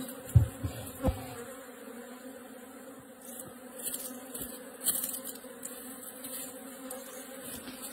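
Honeybees hum continuously close by around a hive, a dense steady buzz with individual insects droning past, plus a few soft knocks and bumps.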